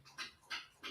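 A dog laps or licks at close range in three short, wet, evenly spaced bursts with quiet gaps between, and no talk.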